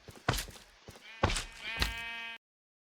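Sheep bleats from a video game about building an automatic sheep-shearing unit: two or three loud, close bleats in quick succession, the last one drawn out and wavering before cutting off abruptly, with no talk over them.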